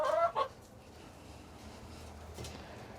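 A couple of short chicken clucks up close at the start, then quiet rustling and low background noise.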